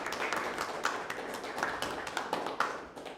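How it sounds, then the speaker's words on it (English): An audience applauds at the close of a live lecture presentation, a steady patter of many clapping hands at moderate distance that carries on for several seconds without talk. "Big applause for Peter."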